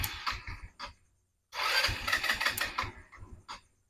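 A Motorstar Easy Ride 125 scooter cranks and fires up in two bursts, a short start-up that dies after about a second, then a longer loud engine catch with revving, all close by with no talking.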